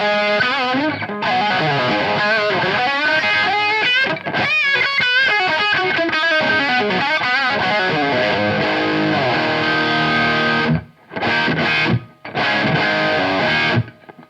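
An electric guitar played dry through a Victory VS100 Super Sheriff amplifier, heavily distorted, rings out in loud chords and riffs, with a few short pauses near the end.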